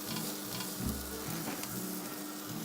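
Marinated shrimp skewers fry in a pan, giving a continuous soft sizzle with occasional low knocks and scrapes of handling, moderately quiet and without voices.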